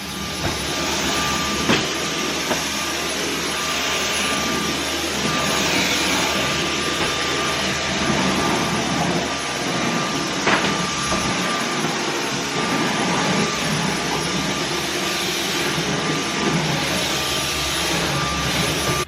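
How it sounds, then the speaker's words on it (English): A household vacuum cleaner runs loudly and without a break for about nineteen seconds, a dense steady roar with a thin high whine and no talking. "I vacuumed over here because I have to clean down the counter anyway"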